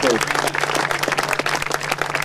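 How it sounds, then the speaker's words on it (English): Audience applauding an aircraft crew at a KC-135E Stratotanker final flight ceremony at Dover AFB, dense continuous clapping from a gathered crowd with a steady low hum beneath. "Let's give them a nice round of applause."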